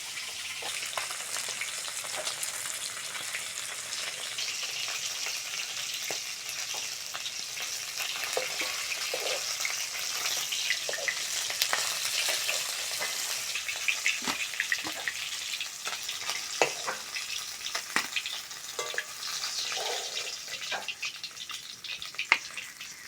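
Fish pieces frying in hot oil sizzle steadily and close for over twenty seconds, a dense crackling hiss dotted with small pops and spatters.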